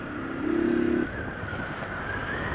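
A Honda CG 150 Titan motorcycle rides on city roads toward Diadema on a hot day, engine droning steadily with a brief rising rev early on under loud wind rush, no talking.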